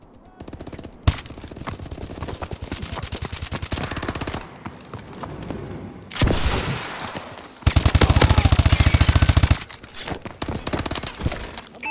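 Sustained automatic weapon fire in a Call of Duty: Advanced Warfare battle, long rapid bursts of loud machine gun fire with short pauses and a few single shots, brief voice lines mixed into the combat.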